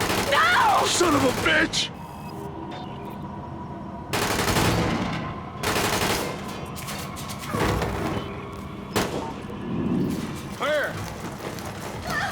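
Gunfire in The Division, bursts of automatic fire and single shots crackling in short volleys amid mechanical clatter, with shouting voices breaking in between.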